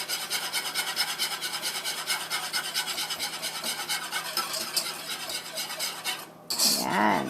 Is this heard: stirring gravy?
yes